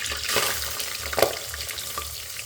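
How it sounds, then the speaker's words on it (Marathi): Cumin seeds and onion fry in hot oil in a pan, a moderate sizzle with repeated scraping stirs and a low steady hum beneath, close by, no talking. "आता आपलं तेल टाकलं आहे त्यात थोडे जिरे टाकू आणि कांदा टाकू"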